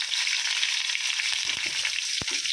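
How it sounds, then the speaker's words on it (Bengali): Brinjal (eggplant) fries in hot oil, giving a steady, dense sizzle from start to end, with a few soft stirring clicks partway through and no talk. "বেশি করে বেগুনটা ভেজে নিচ্ছি"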